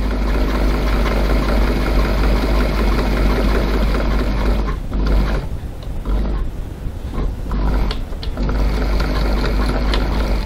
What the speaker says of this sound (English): now we're top stitching down the side of the gusset edge there, 3 millimeters, 1/8 of an inch from the edge